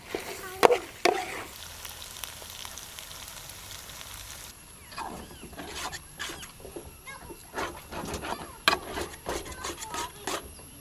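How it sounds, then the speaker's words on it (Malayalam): Kerala beef fry being stirred in a pan, with close scraping and rustling strokes over a soft, steady sizzle; the first few seconds are busier and louder, and the later stretch is quieter with intermittent stirring clatter. "നല്ലപോലെ ഒന്ന് ഇളക്കി കൊടുക്കാം കേട്ടോ."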